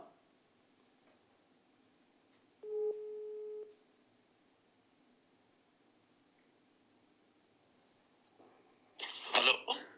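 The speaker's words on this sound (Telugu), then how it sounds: "చిరంజీవులు గారికి ఒకసారి ఫోన్ చేద్దాం." An outgoing phone call to a BC Intellectual Forum member sounds a single steady electronic ring tone of about one second, clear against a quiet background, with a short noisy burst near the end.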